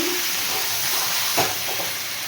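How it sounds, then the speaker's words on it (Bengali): Potatoes sauté with chicken in a pan, producing a steady, even frying hiss with one brief stirring scrape midway, close and moderately loud. "ভালোভাবে আলুগুলো দিয়েও কষিয়ে নিয়েছি"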